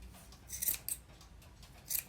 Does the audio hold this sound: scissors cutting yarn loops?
yes